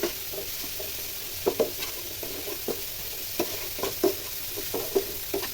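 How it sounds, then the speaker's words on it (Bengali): Spice paste frying in a pan for a home-cooked fish meal: a steady soft sizzle under regular close spatula scrapes and taps, moderately quiet, with no voices. "মশলা কষাই করছিলাম, মশলাটা ভালো করে না কষাইলে এই গন্ধ গন্ধ করে"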